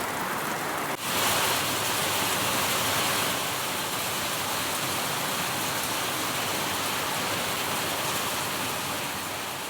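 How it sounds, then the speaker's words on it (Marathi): Heavy rain pours down in Umbre village in Bhor taluka, Maharashtra, a dense, constant hiss that stays even and loud through the whole stretch with no voices. "भोर तालुक्यातल्या उंबरे गावात पावसाच्या जोरदार सरी बरसल्यात।"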